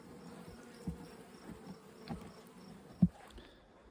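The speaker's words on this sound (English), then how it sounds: "We have some New Zealand bees here." Honey bees of a New Zealand strain buzz steadily around backyard hives along a tree line, a continuous close hum with a few louder passes as individual bees fly near, no voices.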